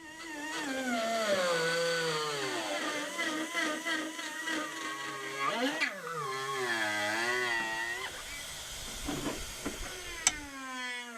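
A power cutting tool strips undercoating from an Audi A2 replica rally car, its whining motor rising and falling in pitch under load over a continuous hiss, close and steady for several seconds.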